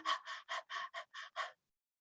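A person imitates rapid panting, like a dog or someone after exercise: seven short, breathy gasps in a quick, even rhythm, close and clear, then silence.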